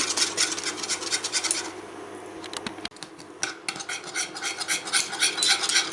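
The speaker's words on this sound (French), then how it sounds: "on va cuire notre crème sans cesser de remuer jusqu'à temps que ça épaississe" A spoon scrapes and stirs Catalan cream custard in a pan over very low heat, a close, rhythmic metallic scraping with a brief pause partway through.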